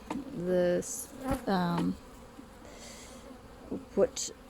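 Honey bees buzz nearby at an open hive in short droning bursts with rising and falling pitch, against a soft outdoor background.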